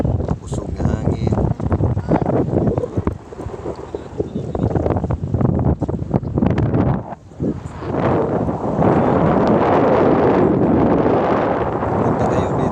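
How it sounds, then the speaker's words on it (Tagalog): Strong wind buffets the microphone along a seaside boulevard, a loud continuous rumbling roar with gusty surges and a brief lull midway, a voice faintly audible at times. "Pusong nga hangin."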